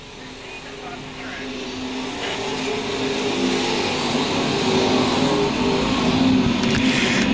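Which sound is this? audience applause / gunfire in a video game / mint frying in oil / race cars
race cars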